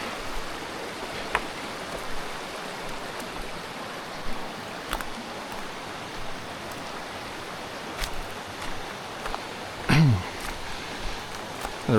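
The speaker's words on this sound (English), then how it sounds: "Actually, I think there's a bit of a waterfall over here." A creek waterfall at Gold Creek gives a steady, broad rushing hiss throughout, with a few brief knocks and a short voice near the end.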